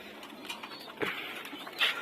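Domestic pigeons in a home loft, with a few soft, close coos and the faint rustle of birds moving about in a quiet setting.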